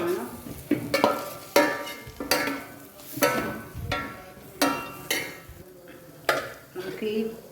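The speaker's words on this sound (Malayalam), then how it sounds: "നല്ലവണ്ണം ഇളക്കി കൊടുക്കാം." Squid roast masala being stirred in a pan, with a spoon repeatedly scraping and clacking against the metal in an uneven rhythm of about ten strokes, over a soft sizzle.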